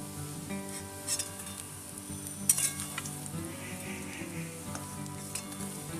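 Banana flower pakoras fry in oil in a wok, a moderate bubbling sizzle with scraping stirs and a sharp metallic clink midway, set against faint background music.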